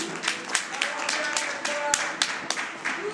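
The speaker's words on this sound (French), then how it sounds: "Eh bien, elle mérite vos applaudissements" Audience applause and scattered clapping for a clear, faultless show-jumping round at an equestrian competition, steady crowd clapping throughout with an announcer's voice over it.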